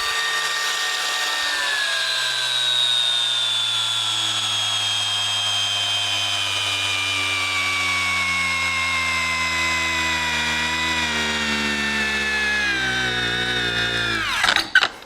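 Cordless angle grinder at maximum speed on a SHIDOKU PRO Makita-type battery, a loud whining motor spinning steadily while its pitch slowly sags under load, then winding down abruptly as the tool cuts out at the end.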